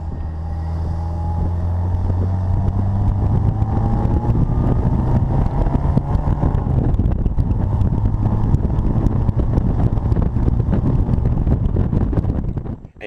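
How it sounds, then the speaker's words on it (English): A concours-restored Bugeye Sprite on bias-ply tires drives along, its exhaust note droning and shifting pitch under steady rushing wind noise, with no talking. "And even the exhaust note, you should be able to hear it. It just sounds great."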